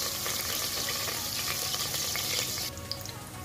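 Chopped garlic fries in oil for chopsuey, producing a steady, close sizzle with light crackling throughout. It eases slightly toward the end, with no talking.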